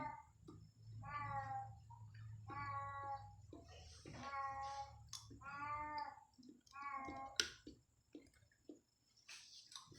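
A cat meows repeatedly, a series of drawn-out, wavering cries fairly close by, with small clicks and drips between them.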